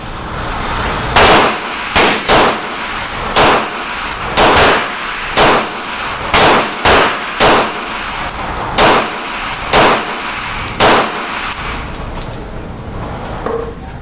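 A Beretta PX4 Storm Inox pistol fired at an indoor range from 50 feet, with about fourteen loud, sharp shots in a fairly even, rapid cadence, each with a short ringing tail.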